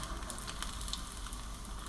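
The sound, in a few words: pakoras frying in oil in a small wok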